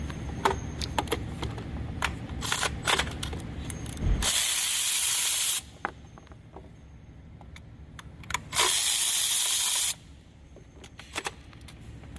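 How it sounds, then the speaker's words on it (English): Ratchet wrench working 30mm intake manifold bolts loose on a car engine, a run of close metallic clicks between two long bursts of steady hiss, no talking. "Now we're gonna remove the intake manifold bolt. They are 30mm."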